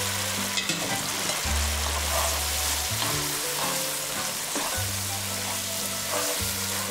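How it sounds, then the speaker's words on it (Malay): Drained al dente spaghetti hits a hot wok with seafood aglio olio, giving a loud, continuous sizzle and hiss under steady low background music, with no voices. "Angkat semua spaghetti masuk dalam kuali."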